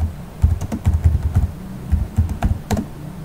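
Rapid typing on a computer keyboard while entering subtitle text, a steady run of close, moderately loud key clacks with brief pauses and no voice.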